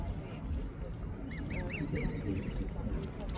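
A few honking calls from swans ring out in a short burst midway, somewhat distant, over a steady outdoor background rumble with faint voices, in Southport.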